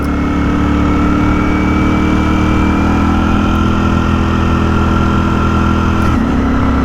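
A 2023 Ducati Streetfighter V4S motorcycle rides along, its engine a loud, steady hum mixed with wind and road noise, heard close from the rider's seat.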